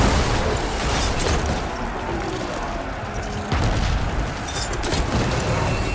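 Tanks blowing up during an arena fight against machines in Horizon Forbidden West, heard as a dense, sustained wash of booming blasts and rumbling noise with a sharp renewed burst partway through and no speech.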